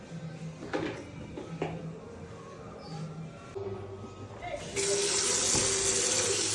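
Running water poured for washing the floor of a new house, starting faintly behind clattering and a few brief voices, then a loud steady gush of water from a tap in the final seconds.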